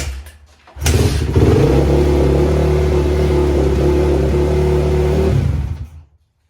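A cold motorcycle engine with its pipe loosely hung on fires up with the choke on, catching quickly into a loud, steady, throaty idle with slight revving for several seconds, then cutting off.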